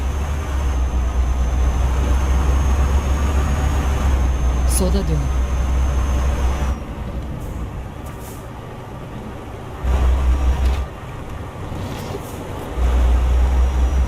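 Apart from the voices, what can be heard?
truck driving in video game Euro Truck Simulator 2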